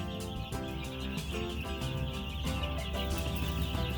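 Crowded brooder coop full of chicks: many small birds chirping steadily and continuously at close range, with a dense busy backdrop and no pauses.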